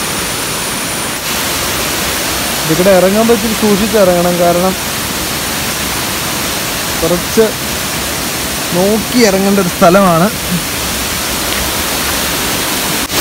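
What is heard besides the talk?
Urulikuzhi waterfall rushing water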